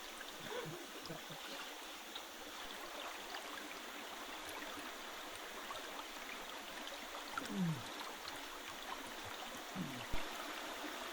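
A creek flows along its deeper side during gold prospecting, a soft steady trickle and babble of moving water heard close but quietly, with a couple of faint knocks and no talking.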